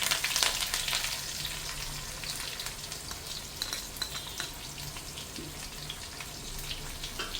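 Mustard seeds, shallots and curry leaves fry in hot oil with a steady, dense sizzle, scattered crackles and pops riding on top, close and continuous throughout with no voices.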